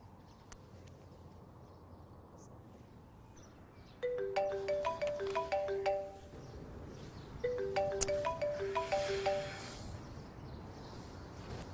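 A phone ringtone for an incoming call plays two bursts of a bright repeating electronic melody, the first after about four seconds and the second near eight seconds, over a quiet room hum.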